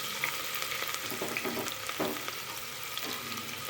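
Chopped onions dropped into hot oil with whole spices such as cardamom for a hotel-style vegetable pulao, sizzling steadily with a few stirring scrapes, close and without speech.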